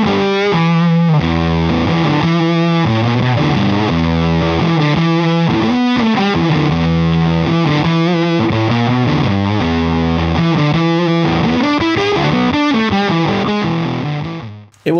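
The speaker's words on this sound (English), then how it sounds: "It will sound mean and big and nasty, but that's exactly what a fuzz is for." An electric guitar through a fuzz pedal plays thick, heavily distorted single notes and riffs, loud and continuous for the whole stretch, then cuts off, with no talking.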